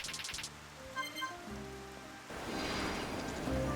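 Rain falls in Xenoblade Chronicles, a soft hiss that swells louder midway and continues under game music tones and brief chimes, moderately faint and steady.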